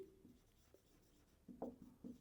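Pen or chalk writing out equations in a math lesson, faint short scratchy strokes in a quiet room, a few clustered marks toward the end.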